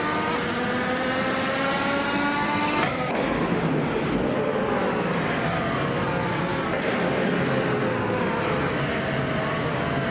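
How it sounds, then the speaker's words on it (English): Race cars in a racing video game roar continuously at close range, with several engines whining and shifting pitch as they speed past, and a sharp change in the engine tone around three seconds in. "Hope you're ready to see some cars race their virtual hearts out."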